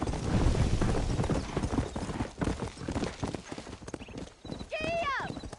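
Horse hooves clip-clop at a steady gallop in the Red Dead Redemption video game, close and continuous, with a voice talking over them and a brief horse whinny near the end.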